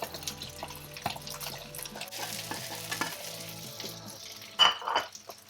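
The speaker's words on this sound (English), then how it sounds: "Let the eggs cook for a little bit, and then throw in the rice." Rice fries with eggs in a hot pan, giving a dense, steady sizzle with stirring scrapes and clatter throughout and a sharper metallic clink near the end; loud and close, with no talking.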